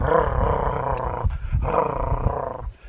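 A voice imitates a baby elephant's low, rumbling growl in two long rough bursts with a short break between them, close and fairly loud.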